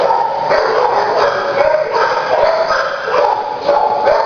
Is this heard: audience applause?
no